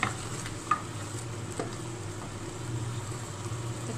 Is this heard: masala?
yes